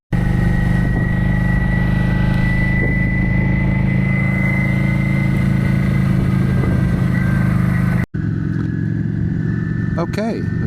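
Motorcycle cruising at about 20 mph on a rainy day, a steady mid-pitched engine drone with constant road and wind rumble throughout, loud and close, briefly cutting out near the end before resuming.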